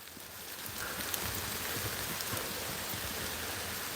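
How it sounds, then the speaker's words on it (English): Rain falls steadily outdoors during a hunt for shark teeth, a continuous close hiss of drops with no voices. "it is raining"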